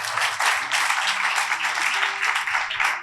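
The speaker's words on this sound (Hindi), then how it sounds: "आइए उस खुदा के लिए जोरदार तालियां बजाएंगे।" A church congregation applauds at a sermon, with dense, sustained clapping from many hands throughout, loud and steady with faint voices mixed in.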